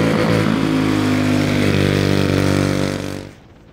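A go-kart powered by a Predator Ghost 212 racing engine runs on a track, a loud steady high-revving buzz held for about three seconds before fading as it pulls away.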